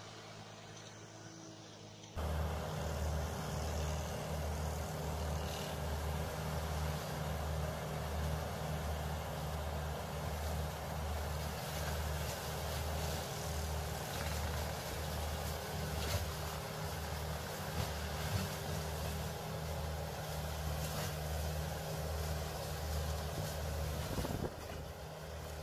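A tractor engine starts up and then runs continuously as it drives, a close, steady low chugging with a regular pulsing throb and some wind noise.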